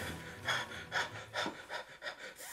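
A narrator imitates rhythmic panting, about six quick breathy gasps in a steady pulse, close and fairly soft, with no other sound around them.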